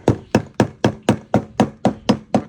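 A scraper knocks hard residue loose on a Chevy Silverado fuel pump, eight or nine sharp, evenly spaced metallic taps in quick rhythm, close and clear with no talk.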